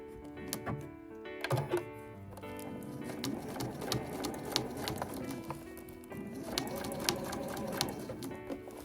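A sewing machine stitches quilted nubi fabric in quick mechanical bursts with rattling clicks, starting and pausing, close by with no talking.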